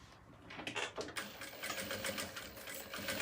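A sewing machine stitching fabric lining onto an elastic-strap organizer case, running in a steady mechanical whir with short speed surges, close up and fairly quiet, no talk over it.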